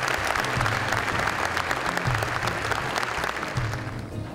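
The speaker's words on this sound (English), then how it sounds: "Please give a round of applause to the winner of the Chairman's Award for Educational Empowerment, Dr. Beverly Tatum." A large audience applauds an award winner at an annual conference, with loud, dense and continuous clapping throughout and low music or murmur beneath it that eases off slightly at the end.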